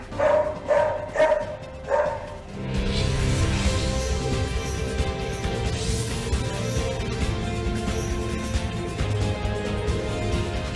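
A small female dog yips and barks in a quick run of four short, sharp barks, and then dense continuous noise follows and covers the rest.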